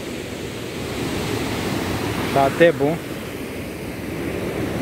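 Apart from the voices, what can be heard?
river with plenty of water flowing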